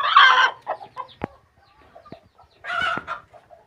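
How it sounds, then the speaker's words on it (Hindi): A broody hen out of the nest clucks nearby in short, separate bursts with quiet pauses between, joined by a few sharp taps. "सेवे वाली मुर्गी बाहर आ गई है फिरने के लिए।"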